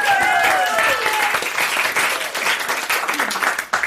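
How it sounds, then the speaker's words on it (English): Audience applause at a live storytelling game show, dense clapping with some cheering and voices over it, loud at first and then thinning out toward the end. "Give him a big round of applause, you guys."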